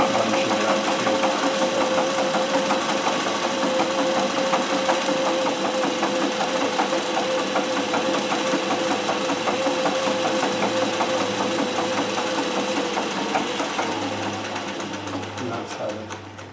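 A treadle-driven Singer 411G sewing machine stitches steadily at close range, its rapid mechanical clatter continuous for about fourteen seconds before it slows and eases off at the end.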